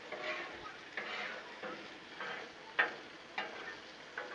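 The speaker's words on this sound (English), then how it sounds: "let's stir our onion up a little bit" Soft onions frying on a Blackstone griddle are stirred with a spatula, giving faint sizzling and a series of evenly spaced scrapes and taps, about one every half second.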